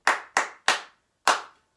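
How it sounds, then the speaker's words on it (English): Flamenco hand claps ring out in a practice session, four sharp, crisp claps with the first three evenly spaced and the last after a short pause, close and clear with no talk. "that has a quicker clap, and I'll show you and demonstrate it"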